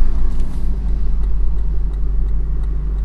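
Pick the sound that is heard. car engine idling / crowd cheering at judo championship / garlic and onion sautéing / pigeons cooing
car engine idling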